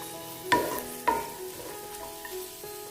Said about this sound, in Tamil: அதுக்குள்ளே நம்ம இந்த முந்திரியையும் திராட்சையையும் தாளித்து எடுத்துக்கலாம்.